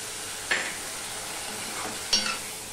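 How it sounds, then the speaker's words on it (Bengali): Ground cumin, coriander and chili powder sauté with a splash of water in a pan for aloo jeera, a low steady sizzle broken by two short bright hissing bursts, close by. "মশলাটা কষানোর জন্য একটু জল দিয়ে দিলাম"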